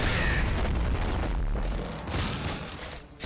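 Sticky launcher explosions boom in Nuclear Throne, a loud rapid cluster of blasts merging into a rumbling burst that fades, followed by a sharp hit at the end.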